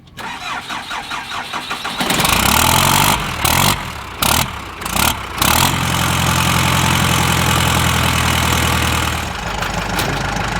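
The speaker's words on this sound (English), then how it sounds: "Smoothest idling running 4BT." A Cummins 4BT diesel engine in a 1946 Dodge cranks, sputters and catches, then settles into a loud, steady idle with a deep, even rumble close by.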